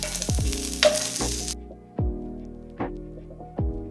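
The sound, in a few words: garlic and onion stir-frying in pan after bacon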